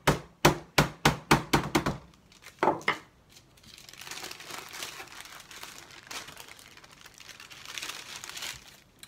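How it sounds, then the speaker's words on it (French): A meat tenderizer mallet pounds chicken fillets for chicken parmigiana, a quick run of about eight sharp close thuds, then two more, followed by softer crinkling and shuffling with no talk. "je vais aplatir, attendrir, parce que c'est un marteau à attendrir la viande"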